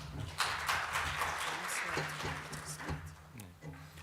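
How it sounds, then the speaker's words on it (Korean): Audience applause at a digital economy forum session welcoming a speaker to the stage, a moderate wash of clapping from a seated crowd, fairly soft and distant, with a low hum beneath. "박수 부탁드립니다"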